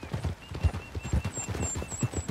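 Horse hooves gallop in a steady, rapid clip-clop rhythm in the Red Dead Redemption 2 video game, close and moderately loud, with faint whistling tones drifting over the top and no talk.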